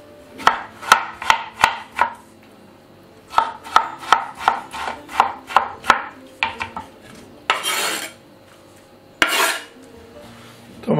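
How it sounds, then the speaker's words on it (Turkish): A knife chops tomatoes steadily on a cutting board in quick rhythmic bursts, with a few clinks of dishes and a scraping sound near the end. "Biz bu arada domateslerimizi küçük küçük doğrayalım."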